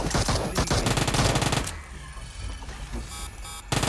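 Rapid automatic gunfire in PUBG Mobile rattles in dense, loud bursts, pauses briefly to scattered shots, then resumes with another quick volley.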